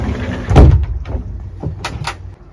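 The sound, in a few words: sliding door in Rapido 8090DF motorhome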